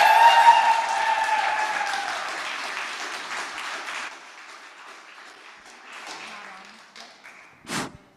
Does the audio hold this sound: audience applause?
yes